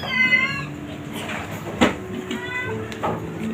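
Sick cats at a cat shelter in Bekasi, a clear nearby meow followed by more meows and shelter noises, with a brief knock in between.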